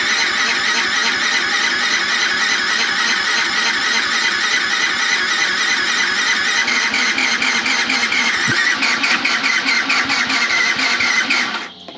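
A Yamaha YZF R125 motorcycle engine cranks continuously on its starter after a valve change, a loud, rapid, uneven churn that never quite catches before cutting off near the end.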